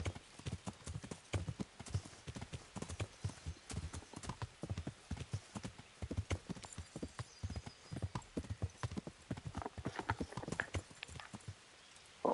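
Horse hooves clip-clop in the medieval game Kingdom Come: Deliverance, a steady rhythmic run of sharp close hoofbeats lasting several seconds, with a brief whinny-like tone near the end.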